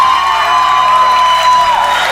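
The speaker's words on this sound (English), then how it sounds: "Round of applause for the guys, your new representative." Loud, dense crowd noise of cheering and whooping mixed with applause, as an audience celebrates the winner at the grand finale of a talent show, sustained and close throughout.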